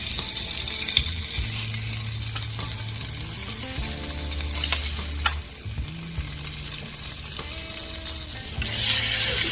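Hot dogs fry in a pan with cracked pepper, giving a steady close sizzle and hiss broken by brief clatter as they are turned, with a faint tonal hum running underneath and no talking.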